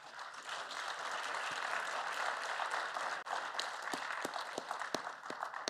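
Applause from a conference audience for panelists at an African protected areas congress, a sustained wash of clapping with a few sharp, close individual claps standing out toward the end, no voices.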